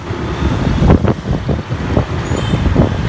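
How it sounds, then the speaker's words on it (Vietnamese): Dense road traffic in a Vietnamese traffic jam, a continuous close rumble of car and truck engines with bursts of passing vehicles, loud and steady with no talking. "Rồi chạy kẹt xe kiểu này nữa là chết."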